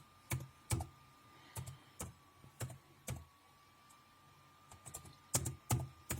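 Someone types a short word into a search box on a computer keyboard, about a dozen crisp, close key clicks in quick irregular bursts with brief pauses, in an otherwise quiet room.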